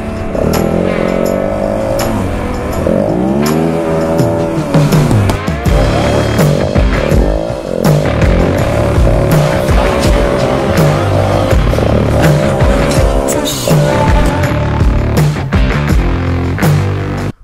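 A motorbike rides on dirt at a farm late in the day, its engine revving and surging loudly and continuously with repeated rises and falls as it accelerates and shifts, close to the microphone.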